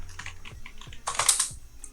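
Rapid typing on a computer keyboard, close and clear, with quick irregular key clicks and a denser burst of keystrokes partway through.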